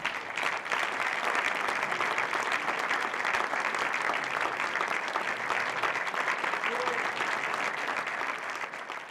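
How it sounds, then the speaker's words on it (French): A festival audience at the Festival d'Aubagne applauds an honored guest with long, steady, evenly dense clapping that fills the room for about nine seconds. No one talks over it. "Mesdames, Messieurs, je vous demande d'applaudir Monsieur Francis Lay"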